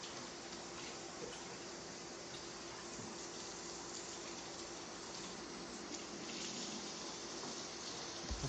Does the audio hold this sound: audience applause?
no